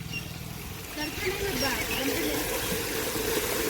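Water from a borewell running into filling tanks at a family home, a soft, steady trickle and splash heard fairly close and faint, with a voice talking briefly over it.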